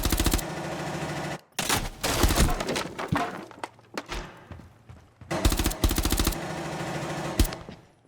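Gunfire replayed in a shooter's kill cam, with long sustained bursts of automatic fire broken by gaps, sharp impacts and breaking sounds, loud and close with no speech.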